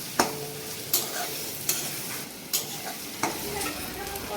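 Chicken with garlic paste stirred and frying in a pan for a Bengali-style chicken chaat masala, with a steady sizzle and sharp spatula scrapes landing roughly every second, no voices.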